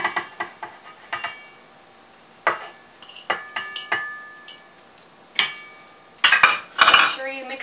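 A utensil knocks and scrapes in a bowl of dip as diced onion and chopped dried beef are mixed in, giving sharp irregular clinks and taps with short pauses, louder toward the end.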